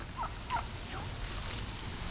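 Pet fowl, likely turkeys, call outdoors on a winter day, a few short gobbling calls close by over steady low background noise.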